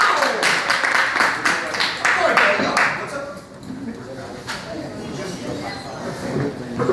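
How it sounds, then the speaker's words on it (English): An audience at a café poetry night claps for a poet, a burst of close applause that thins out halfway through and gives way to scattered room noise. "Everybody, please clap it up for Sequoia."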